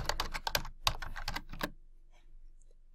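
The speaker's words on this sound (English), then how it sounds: "Click on Protect Your Drive and type in a password." A password is tapped out on a computer keyboard, a quick close-up flurry of crisp clicks lasting under two seconds, then near silence.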